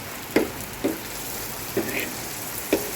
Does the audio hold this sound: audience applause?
no